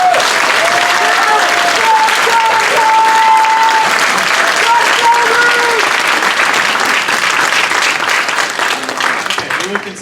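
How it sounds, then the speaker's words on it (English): Loud, sustained applause from a forum audience fills the room, steady clapping continuing for several seconds before tapering off near the end, with some voices mixed in. "We'll consider that applause for all 4 candidates."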